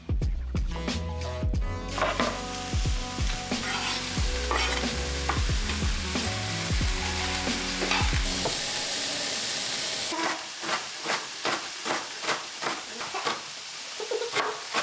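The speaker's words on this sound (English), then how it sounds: "add them to the mixture to saute for a few minutes along with about half of a celery root cut into cubes" Vegetables and cubed celery root sautéing in a pot make a low sizzle under tonal background sounds, with repeated spoon scrapes and stirring knocks that grow sharper and more regular toward the end.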